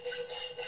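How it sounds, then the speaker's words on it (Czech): A blacksmith rasps with a metal file in an audio drama, giving short rhythmic scraping strokes, soft and fairly close, with no talk over them. "Kovář vezme pilník a všem třem trochu upiluje jazyky."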